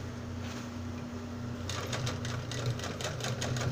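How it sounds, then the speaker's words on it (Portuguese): A sewing machine stitches fabric for a unicorn dress, running with a rapid mechanical rattle that starts after a quiet hum and continues close and steady, with no talking. "Ah, vou costurar de novo aqui."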